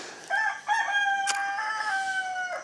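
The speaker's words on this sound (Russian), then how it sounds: "Петушок пропел, сказал, что мне пора." A rooster crows loudly and close by, a long drawn-out call with a couple of shorter crows and a sharp click partway through.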